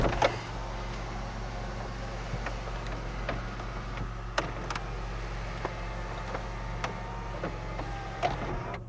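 Electric rear-window sunshade of a full-option imported large sedan moving after a button press, a steady low motor hum with faint ticking clicks, close and alone.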